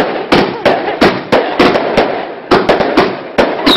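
A rapid volley of firework shots from a 90-shot barrage on bonfire night in Grimsby, UK, with loud, sharp bangs fired in quick succession at an uneven rhythm.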